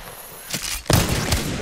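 A short burst of loud gunshots from an Apex Legends match, two or three sharp cracks close together after a brief quieter lead-in.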